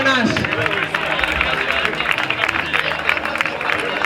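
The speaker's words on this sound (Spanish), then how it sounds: "Un fuerte aplauso para las tres campeonas." Applause from a crowd at a Zaragoza half marathon trophy ceremony for three women champions, steady clapping mixed with crowd murmur and a loudspeaker voice continuing over it.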